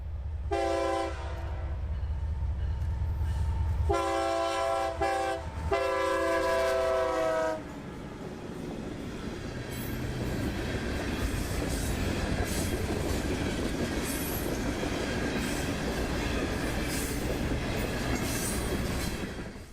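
A CSX freight train led by locomotive 1871 rumbles past a road crossing close by, sounding several long horn blasts at the start before the steady roar and clatter of cars continues.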